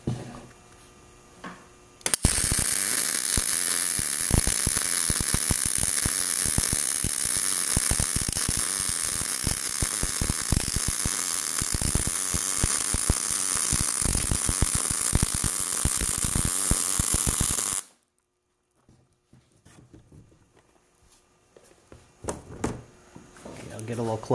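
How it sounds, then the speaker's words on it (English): A Miller Multimatic 200 welder on auto mode for 1/4 inch steel gives a loud, steady crackling arc for about fifteen seconds, then cuts off to near silence with a few faint clanks. "now here's the Miller on auto set for 1/4 inch"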